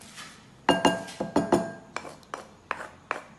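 A spoon knocks and clinks against a bowl in a quick, uneven series of sharp taps while salted salsa is mixed, close and fairly loud with no talk.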